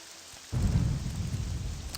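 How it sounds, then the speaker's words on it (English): Steady rain and a deep rolling rumble of thunder in the video game Morrowind, with the rumble swelling suddenly partway through and the rain hissing on underneath, and no talk. "Sounds like the rain is stopping."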